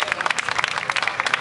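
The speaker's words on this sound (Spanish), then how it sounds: "recibirlos con un fuerte aplauso" A school audience at an anniversary celebration in Haedo claps steadily in a dense, continuous patter of many hands. The applause is moderately loud and holds without break for a short stretch.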